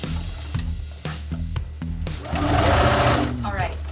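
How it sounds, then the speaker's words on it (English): Sewing machine stitching a fabric pocket bag, running in short rhythmic bursts with brief pauses before settling into a longer, steady whirring run; close and clear. "So again, you're just going to sew the one piece together."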